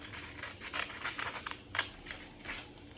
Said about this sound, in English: scissors and you're going to cut out your leaves right on the drawing marks.